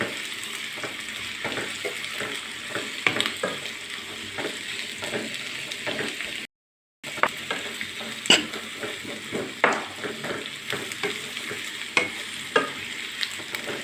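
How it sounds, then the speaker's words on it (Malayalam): Sliced onions sizzle in coconut oil in a pan, a steady close frying hiss punctuated by repeated scrapes and clinks of a spoon stirring against metal, with a brief cut to silence midway. "ഇതൊന്ന് വറുത്ത് പോരണം"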